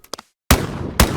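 A double-barrel shotgun in the VR game Boneworks fires twice in quick succession, two loud, close blasts about half a second apart, each with a short ringing tail, after a few light mechanical clicks.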